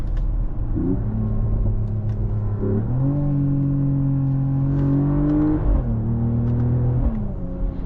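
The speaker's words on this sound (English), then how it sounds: "Of course you get synthetic sound from the speakers" A smooth, synthetic engine hum from the speakers of a 2026 Mercedes-AMG GLE 53 Hybrid rises and falls in pitch as if through gears, repeatedly climbing then dropping, steady and close with no talking.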